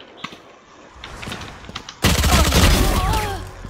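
Gunfire in Valorant: a few sparse shots and clicks, then a sudden loud burst of rapid firing that keeps going for over a second, close and harsh.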